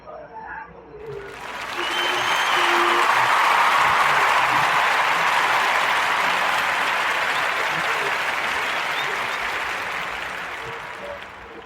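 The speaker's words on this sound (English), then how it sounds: "Join me in giving this brother a warm narrative podcast round of applause" Audience applause for a guest on a podcast, building quickly after a brief pause, staying loud and steady for several seconds, then gradually fading.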